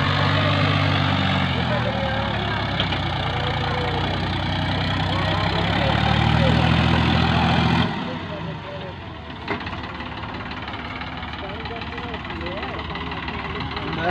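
A VST Shakti Viraaj 9045 45 HP tractor engine idles with a steady low rumble, loud and close for about eight seconds before dropping to a quieter drone, with a voice speaking over it.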